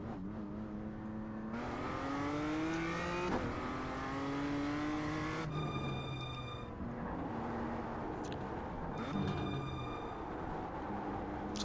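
BMW M2 CSR race car in iRacing pulling out of the pit lane on cold tires, its engine whining and rising steadily through the gears with clear upshifts, loud and close throughout.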